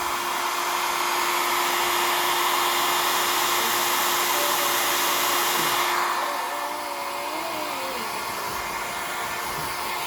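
A hair dryer blows on hair before bedtime, a loud continuous roar with a steady tonal whine that softens and drops in level partway through as it is moved or switched to a lower setting, with faint squeaky sounds beneath.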